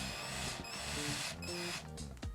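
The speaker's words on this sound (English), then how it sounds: "I think I'm just going to drill them out." Power drill boring out screws on an Ableton Push 2 controller, a loud close whining motor with shifting pitch as the bit bites, briefly easing and revving again.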